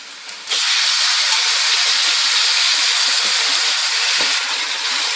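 Mutton dropped into a pot of frying whole spices, an abrupt loud hiss that bursts in after a moment and holds as a steady, close, intense sizzle to the end.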